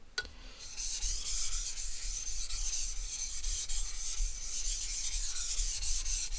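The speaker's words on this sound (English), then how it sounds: "I'm going to do 2 passes on this side because it hasn't been sharpened yet" A sushi knife is drawn steadily across a wet sharpening stone, making a continuous close gritty scraping that rubs on evenly for several seconds without any talking.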